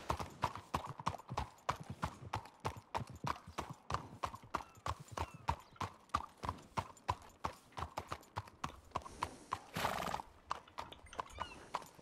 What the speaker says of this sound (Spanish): Qué maravilla caballo.